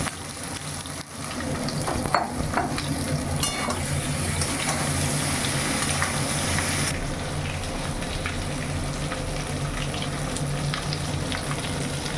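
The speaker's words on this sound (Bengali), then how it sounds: "আলুগুলো আমার ভাজা হয়ে গিয়েছে যে এইরকম ভাজা হয়েছে সুন্দর ভেজে নিয়েছি" Potatoes fry in hot oil in a pan, giving a continuous dense sizzle with faint stirring scrapes, steady and close with no voices.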